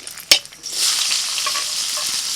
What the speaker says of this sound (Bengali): এবার আমি তেজপাতা শুকনো লঙ্কা দিয়ে দিলাম।